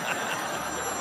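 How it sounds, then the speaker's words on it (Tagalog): A telephone rings on a Philippine noontime variety show set, a continuous bright electronic ring filling the second alongside studio noise and crowd ambience. "Ayun na naman yung telepono."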